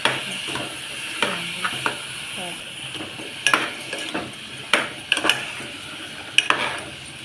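Masala and val beans fry in oil in a pot. The clip has soft sizzling and repeated sharp clinks and scrapes of a spoon stirring against the metal vessel, heard close with no talk.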